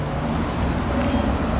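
Tires rumbling over brick paving as cars pass on a Toronto street near The Queensway and Humber Bay, a brief steady roar of traffic, fairly close and unbroken.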